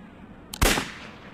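A single loud gunshot rings out from a shooting video game, a sharp blast followed by a short decaying tail over quiet background noise.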